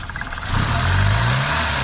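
A mid-pitched car engine with a faulty manifold idles, then rises into a steady rev after about half a second and holds there, loud and close.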